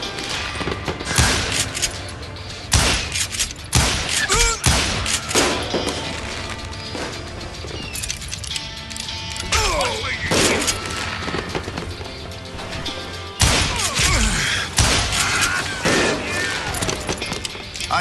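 Rapid gunshots and crashing impacts from the Western shooter game Call of Juarez: Gunslinger, loud and dense, firing in bursts across the whole stretch with a voice shouting in between.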